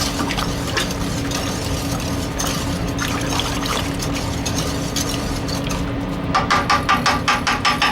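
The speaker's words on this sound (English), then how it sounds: "give it a great whisk, you know, to combine all these flavors" A whisk stirs pumpkin soup ingredients in a pot, giving steady liquid sloshing and scraping throughout, with quicker, distinct rhythmic strokes near the end.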